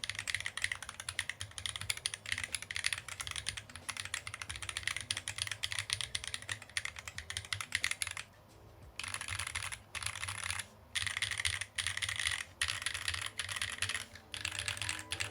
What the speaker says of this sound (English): here's a typing test